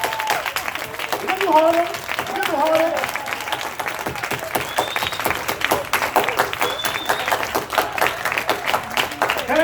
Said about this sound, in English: Come on. Clap it.